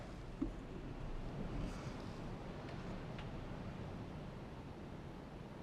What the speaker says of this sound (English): I can hear like rumbling sound. Is that not the river passing under us?